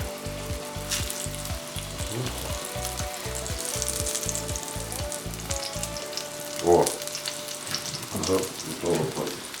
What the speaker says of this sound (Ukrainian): Все, і смажимо до готовності